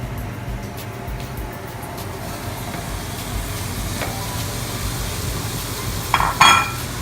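Lean ground turkey, a pound of it, sizzles steadily in a pan with a broad crackling hiss, a low hum underneath and a brief louder clatter near the end; no one speaks.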